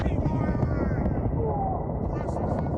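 An enemy helicopter in Battlefield: Bad Company 2, its loud rotor thump and engine drone filling the scene continuously, heavy and close, with in-game voices talking over it.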